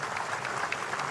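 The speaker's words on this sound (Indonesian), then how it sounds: "Tepuk tangan semuanya, keren." An audience claps steadily at an Indonesian ceremony for young participants, a dense, even wash of applause with no talk over it.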